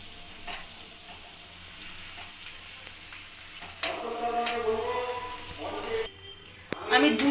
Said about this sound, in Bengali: আমি একটা একটা করেই আমি ভেজে নিচ্ছি তাওয়ার মধ্যে।